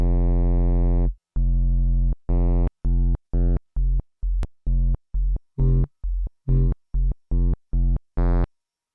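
A drum and bass synth with randomized drive distortion plays a series of short, punchy, bass-heavy stabs. It opens with two longer notes, then moves into a fast, steady pattern whose grit and brightness vary from hit to hit, with no voice over it.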